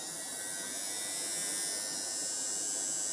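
A battery-operated electronic nose and ear hair trimmer runs with a continuous high, faint buzzing whine, steady throughout with no voices.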